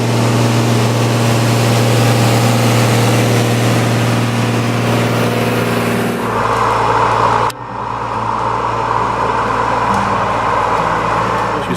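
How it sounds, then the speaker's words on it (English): Farm tractor heading down a rural road for brush hogging, its engine a steady close-up drone throughout, with a sudden shift in tone and a brief dip partway through as the machine changes gear or position. "I can hear that tractor coming back down the road to do the brush hogging."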